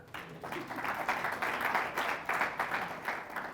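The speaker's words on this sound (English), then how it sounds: "Can you clap hands for Richard?" Applause from a small audience at an informal talk, moderate and fairly steady for a few seconds, with bursts of clapping rising and falling.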